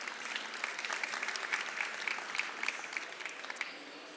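Audience applause at a life science pitch competition, moderately quiet but continuous, with individual claps popping out of a steady spread of hands throughout.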